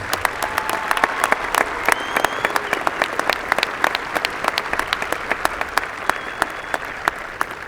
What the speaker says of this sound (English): Parents and guests, please join me in applauding these students and their accomplishments.